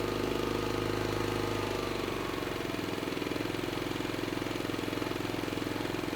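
A Westinghouse iPro4200 inverter generator idles in a garage and drops into a lower, quieter idle in efficiency mode, settling into a steady, even engine hum with no voices.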